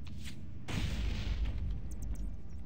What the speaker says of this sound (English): I like the explosions.